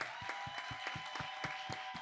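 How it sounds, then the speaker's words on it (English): An evening audience at an Exploratorium social club event claps in a brief, fairly quiet round of applause, with distinct hand claps rising from a low crowd murmur. "Can we get one more round of applause for the staff that helped put this together?"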